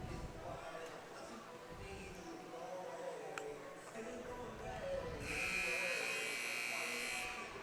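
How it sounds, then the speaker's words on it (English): A buzzer sounds at a high school volleyball game in a gym, a sustained loud electronic tone in the last few seconds over crowd murmur and commentary. "There's the buzzer"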